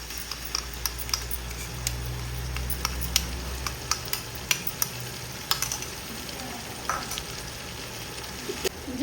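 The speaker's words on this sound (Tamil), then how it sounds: "இஞ்சி பூண்டு பேஸ்ட் வதங்கிடுச்சு." Ginger garlic paste sautés with onions and green chillies in a pan, a soft steady sizzle broken by sharp clicks and taps of a spoon stirring, with a low rumble early on.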